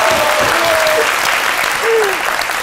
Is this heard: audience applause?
yes